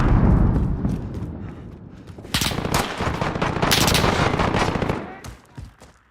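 Rapid machine gun fire in a video game, in loud sustained bursts, with heavy gunshots and booms layered over a dense, chaotic battle din.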